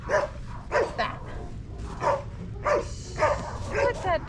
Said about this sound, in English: That's a barking dog.